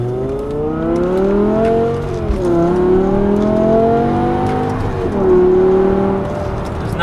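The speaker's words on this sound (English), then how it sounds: "We're gonna get through the gears a little bit." A BMW M5 engine pulls hard through the gears, a loud, steady, close roar rising in pitch with two brief dips at the gear changes before climbing again.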